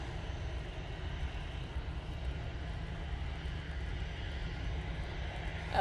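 An Aer Lingus airliner departing Manchester Airport for Dublin under low cloud gives a faint, steady distant engine rumble that holds evenly with no voices over it.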